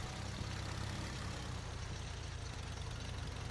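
Old tractor engine idling in a farming video game, a steady low rumble that holds throughout at a moderate level with no talk over it.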